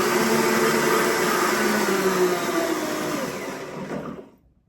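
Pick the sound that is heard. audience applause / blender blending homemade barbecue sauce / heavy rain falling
blender blending homemade barbecue sauce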